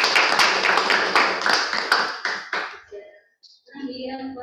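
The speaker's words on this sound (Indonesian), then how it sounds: "Boleh tepuk tangan." A small group at a church service claps in brisk rhythmic applause for about two and a half seconds before it tapers off, followed by a short silence and then a voice speaking.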